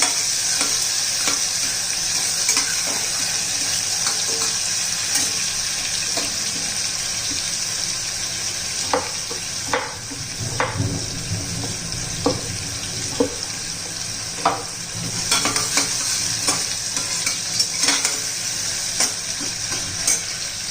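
Tomatoes frying in a pan for a spicy potato curry, stirred now and then: a constant close sizzle broken by scattered spoon clacks and scraping strokes, with no talk.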